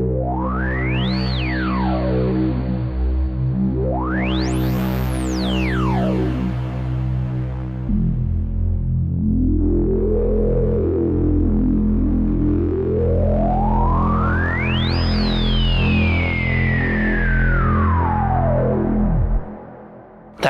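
A preset on an ASM Hydrasynth Desktop digital synthesizer, run through reverb and delay, plays big sweeping tones whose pitch glides sharply up and down over a loud, sustained, layered drone, with long wash-like tails and no talk.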